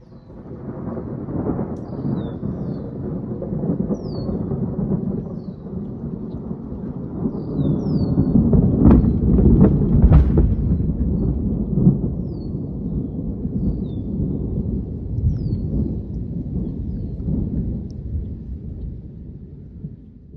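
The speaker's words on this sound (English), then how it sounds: "Alright, I hear a bit of thunder." Thunder from a passing thunderstorm with a tornado warning nearby, heard as a long continuous rumble that swells loudest around the middle and rolls on steadily under faint bird chirps.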